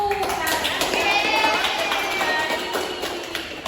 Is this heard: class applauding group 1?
yes